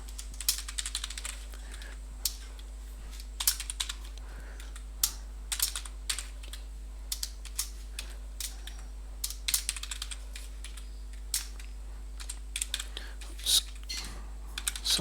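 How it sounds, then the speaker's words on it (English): Names typed on a computer keyboard, close irregular key taps in short bursts over a steady low electrical hum, no talk over them. "we might type the names of the boys in."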